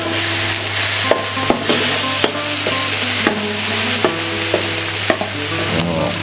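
Paella mix being stirred in a hot pan: a constant loud sizzle with repeated scraping knocks of the utensil against the pan, roughly every half second to second, and no talking.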